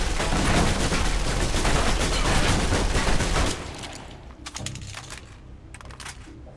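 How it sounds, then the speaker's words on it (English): A submachine gun in the video game Alpha Protocol empties its clip in one dense, loud, continuous burst of about three and a half seconds, followed by a few scattered fainter shots and clatter. "Now, let's move on to the submachine gun. Now let's empty the clip."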